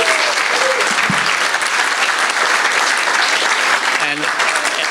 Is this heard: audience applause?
yes